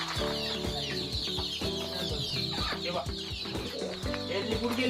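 Native free-range chickens and young chicks cluck continuously inside a poultry farm shed with bamboo fittings, a dense overlapping chorus of close, busy calls with no pauses.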